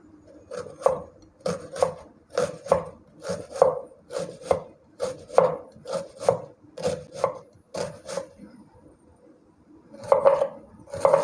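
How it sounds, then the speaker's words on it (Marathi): A knife slices an onion lengthwise on a board, a quick regular series of crisp thuds with a brief pause before a few more cuts. "आता आपण कांदा चिरून घेऊया उभा लांबसर"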